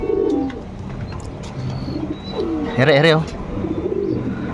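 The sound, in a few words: racing pigeons cooing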